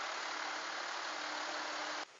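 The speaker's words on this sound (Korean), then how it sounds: "엔진 소리도 한번 들어보시면 회전 질감이 매우 좋은 것을 확인하실 수가 있습니다" Idling engine of a 2007 Hyundai Veracruz 2WD used SUV, a steady close hum with a faint low tone, running alone without talk, cutting off abruptly at the end.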